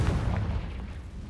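Confringo fire spell cast in Hogwarts Legacy, a single deep booming blast with a low rumbling tail that stays loud through the short moment, no talking over it.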